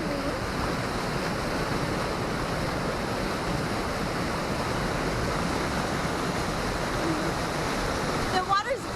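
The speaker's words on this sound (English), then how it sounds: "The water's really rough right below me." Rough water at Crater Lake crashes against shoreline rocks just below a close microphone, a continuous churning splash with a few louder surges at the end.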